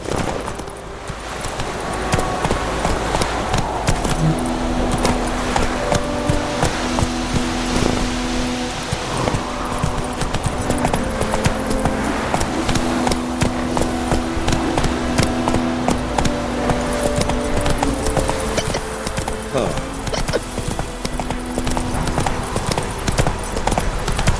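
Horse hooves clip-clop at a steady galloping rhythm throughout, close and loud, with sustained music tones layered underneath, from a ride in The Witcher 3: Wild Hunt video game on PS4.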